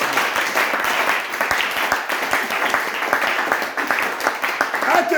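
A church congregation claps together in dense, sustained rhythmic applause, with voices mixed in underneath.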